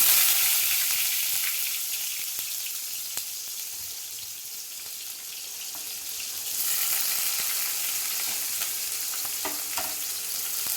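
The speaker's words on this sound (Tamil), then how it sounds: "வெங்காயம் போட்டாச்சு. வெங்காயத்தை நல்லா வணக்கி விட்டுக்கலாம்." Onions frying with spluttering mustard seeds in hot oil while making a drumstick-leaf chutney, a steady close sizzle with scattered crackles and pops throughout, louder after the onions go in partway.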